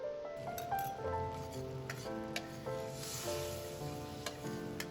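Liquid sauce ingredients with dark rice vinegar hit a hot pan for spicy-sweet anchovies, giving a soft sizzle with bubbling, tonal hiss and scattered clicks of stirring, faint and steady.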